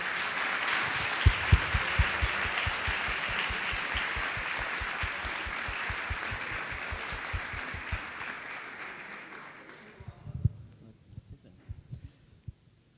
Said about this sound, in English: please, one applause, and we will pass it on to JJ